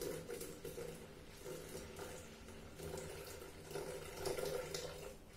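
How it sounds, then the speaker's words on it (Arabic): Water poured into a Thermomix bowl while making soy milk, a soft continuous splashing trickle heard fairly faint and close, with light clinks of the container and no speech. "مازال نزيد الماء، نزيد 100 غرام فوق"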